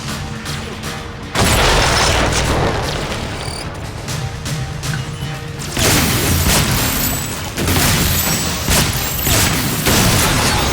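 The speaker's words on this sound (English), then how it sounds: "For longer ranges, use the secondary fire to launch an explosive shell" Explosive shell launched from a shotgun's secondary fire in the VR shooter Damaged Core, loud booming blasts at about 1.5 and 6 seconds over a dense din of in-game combat noise.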